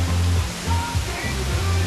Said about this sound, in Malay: Inilah air terjun